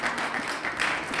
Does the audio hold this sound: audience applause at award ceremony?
yes